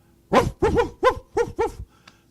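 A storyteller's voice imitates a dog barking at night in a neighbor's yard, giving five quick, loud, close barks in a row followed by a faint short yip.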